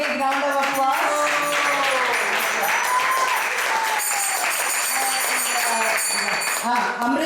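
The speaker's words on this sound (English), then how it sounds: "Let's give her also a big round of applause" Applause from an audience at a temple gathering honouring a guru, steady and sustained for the whole stretch, with harmonium-like tones and voices ringing over the clapping.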